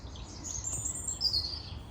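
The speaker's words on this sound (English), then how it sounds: "Listen to the birds." Birds chirp and tweet in a garden with flowers in bloom, with thin, high calls that come and go over a steady outdoor background, faint and at a moderate distance.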